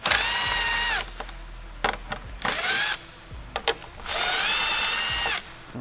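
A power drill whirs in three bursts, close and loud, backing out 7mm screws from the underside of a C8 Corvette fender liner, with clicks and handling noises in between.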